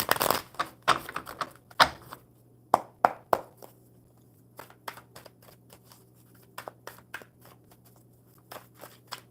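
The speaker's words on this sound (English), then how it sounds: "One more good shuffle for Fahima." Sharp papery riffles and snaps of tarot cards being shuffled, coming in quick bursts with short pauses between, close up, no talking.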